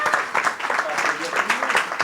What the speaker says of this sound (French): Vous pouvez l'applaudir aussi.